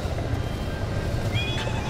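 A horse whinnies in The Legend of Zelda: Breath of the Wild during the Calamity Ganon boss fight, a short high neigh late in the moment, partly buried under dense loud battle noise.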